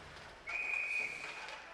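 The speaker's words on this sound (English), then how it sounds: "we got a whistle" A referee's whistle sounds a single sustained blast at an ice hockey game between Janesville and Oregon, heard at a distance over the hollow rink ambience.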